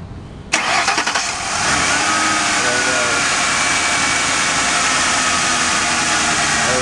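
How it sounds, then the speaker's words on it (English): A car engine fitted with a newly installed throttle body spacer cranks and fires with a sharp start, settling into a loud, steady idle that hums evenly up close. "There's the engine."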